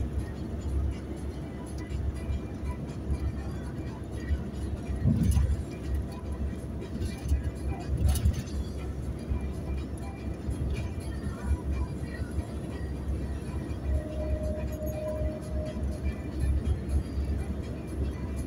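A truck passes on a highway, a steady broad road rumble with swells as the heavy vehicle goes by, heard from inside a moving vehicle with a few faint voices in the background.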